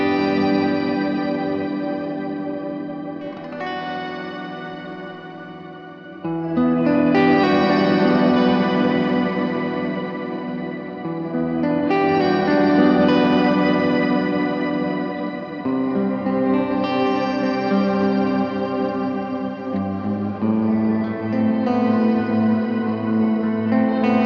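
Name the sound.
Walrus Audio Descent pedal shimmer reverb with octave down and up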